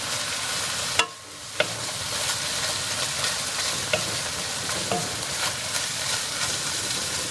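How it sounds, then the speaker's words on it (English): Beef frying in a pan while being stirred, a steady broadband sizzle with intermittent scraping clicks of the utensil, close and fairly loud, with no voices. "I'm just mixing this a little bit more."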